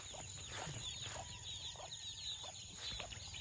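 Chicks peep and cluck on a farm in a soft, steady chorus of high chirps, fairly quiet and continuous with no voices.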